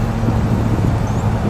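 A 1966 Buick Electra 225 Custom convertible in silver drives along with a steady, smooth low engine and road rumble, constant and moderately loud, mixed with wind noise over the open car.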